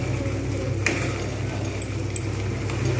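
Boiled potatoes being stirred and sautéed in oil in a pan for a white potato curry (aloo dum), with a steady low sizzle and occasional soft clinks of a utensil against the pan, close by and without speech.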